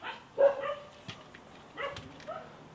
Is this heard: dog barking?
yes